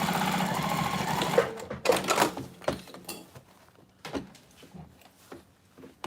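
A home sewing machine stitches a mini box tote with a steady close whirring run of needle strokes, then stops and leaves only scattered clicks and handling knocks of the fabric.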